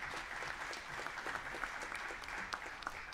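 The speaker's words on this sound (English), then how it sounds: "So y'all give them a round of applause for that." A church congregation gives a quiet, even round of applause for a couple celebrating their 39th wedding anniversary, with continuous distant clapping throughout and no speech over it.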